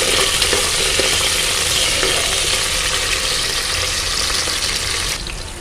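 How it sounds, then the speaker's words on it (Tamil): Shallots and green chillies frying in oil for a Kongu-style rice and lentil dish, giving a loud, steady broadband sizzle that holds evenly for several seconds before easing slightly at the end, with no voices. "சின்ன வெங்காயம் பச்சை மிளகாய் ஆட் பண்ணிக்கிறேன் நல்லா எண்ணெயில் வதங்கணும்"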